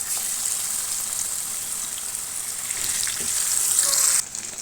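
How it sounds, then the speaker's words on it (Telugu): Fish fries in hot oil in a pan with a loud, close, continuous hiss and crackle that swells slightly and then stops abruptly near the end. "చేపలో ఫిష్ ఫ్రై చేసుకుందామండి"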